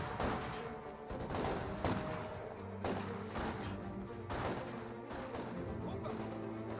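Gunfire in a Company of Heroes 2 battle, with a sniper firing on Volksgrenadiers: scattered shots and thuds repeat through a steady mix of combat noise, and a commentator talks over them.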